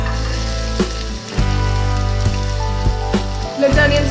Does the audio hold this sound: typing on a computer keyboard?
no